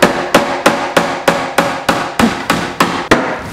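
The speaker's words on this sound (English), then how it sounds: "let's get nailing." Steady hammer blows strike nails into pre-drilled wood while building a garden storage bench, about three per second, loud and close with sharp ringing impacts and no voices.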